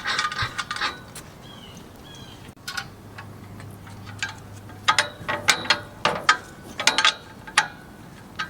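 Ratchet clicking in quick runs while threading nuts onto a trailer brake assembly, with sharp metallic ticks that grow more regular toward the end and a low hum in the middle.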